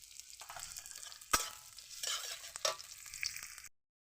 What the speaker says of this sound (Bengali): পেঁয়াজটা ঢেলে দেবো।